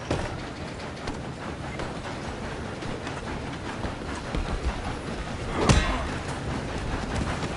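A moving train in Red Dead Redemption 2 rumbles continuously with a broadband rolling roar and a sharp metallic clank near the end, no talk over it.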